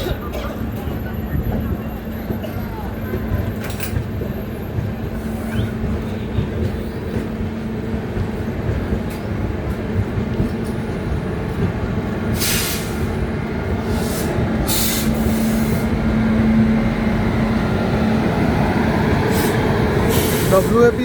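An express train pulls out of Katpadi Junction, with a steady low rumble of rolling wagons building gradually and occasional sharp clanks, while faint platform chatter murmurs in the background.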